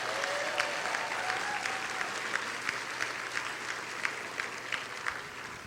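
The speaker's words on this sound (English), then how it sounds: "So please, let's give Lynette a round of applause." A room full of people at a convention evening gala claps steadily, a dense, sustained patter of applause with a few sharper claps standing out.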